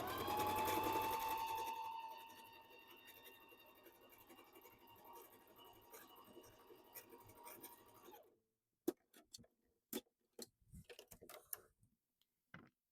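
A Bernina sewing machine stitches steadily at close range for several seconds with a continuous mechanical whir. It stops abruptly and a series of scattered clicks follows.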